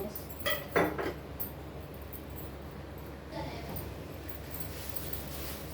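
A lid set down on a pan of frying potatoes gives a short cluster of close metallic clinks and clatter near the start, then steady low kitchen background.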